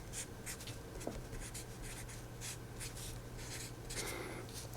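Handwriting on a board during a lecture on reaction-diffusion equations, a steady quiet scratching of strokes in short bursts over a low room hum, without speech.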